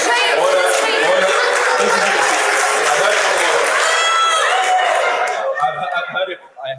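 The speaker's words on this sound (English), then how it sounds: "He was booed." A crowd in a debating chamber jeers a speaker with a loud, sustained wash of booing and shouting mixed with scattered laughter and chatter, which fades and breaks up toward the end.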